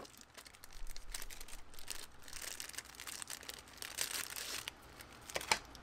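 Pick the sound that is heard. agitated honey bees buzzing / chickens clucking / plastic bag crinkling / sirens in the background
plastic bag crinkling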